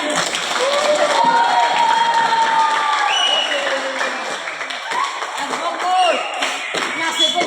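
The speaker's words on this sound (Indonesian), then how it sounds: "Tepuk tangan." A school crowd of students claps enthusiastically in a lively burst that fills the room, with excited voices and chatter mixed into the applause.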